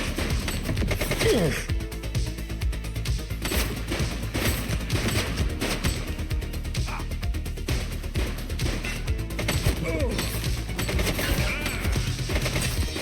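Gunfire in the police game The Precinct, dense rapid bursts of shots and impacts rattling continuously over a busy scene, with faint voices mixed in.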